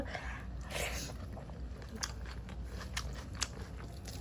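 Fatty meat is chewed and crunched close up during tasting, giving faint, soft wet bites in an irregular rhythm over a quiet background hiss.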